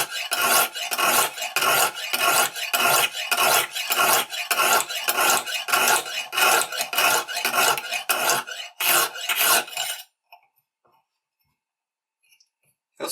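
A kitchen knife blade is sharpened on a Lansky guided-rod sharpening system, giving a steady rhythm of loud, close rasping strokes, about two per second, for ten seconds before stopping into near silence.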